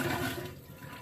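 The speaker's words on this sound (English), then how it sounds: "When you're driving down the road and you don't have water hooked up, in order to flush" An RV toilet in a Newmar Mountain Aire motorhome flushes with a close, steady rush of water that eases off over one second.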